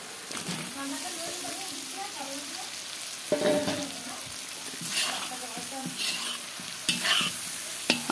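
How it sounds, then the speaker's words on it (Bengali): Fried potatoes are stirred and sautéed with spices in a hot pan, a loud continuous sizzle with repeated scraping stirs that grow busier in the second half, while a voice talks faintly underneath. "আলুগুলোকে এখন মশলার সাথে একসাথে কষিয়ে নেব"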